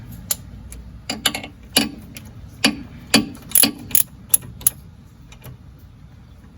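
A hand ratchet turns a tight 10 mm bolt on a 2013 Scion FR-S, giving sharp, irregular bursts of metallic clicks close up, with quiet pauses between strokes.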